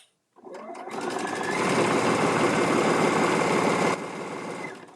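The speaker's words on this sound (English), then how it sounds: "Every chance I get, I'm chain stitching." A sewing machine chain stitching fabric while sewing a fat-quarter bucket, a steady close whirring run of rapid stitches lasting several seconds before it slows and stops, with no talking.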